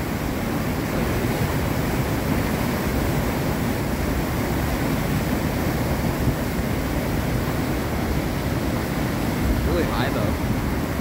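A flooded river runs very high and rushes in a dense, steady roar. The noise is loud and constant throughout, close to the microphone, with some wind buffeting.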